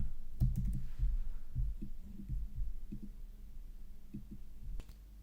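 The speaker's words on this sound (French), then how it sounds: "je vais taper le nom de mon dossier et ensuite je vais taper le nom de ma scène." Soft clicks from a computer keyboard come in an uneven run as a folder name is typed, faint and close, with a quieter pause before a final couple of taps.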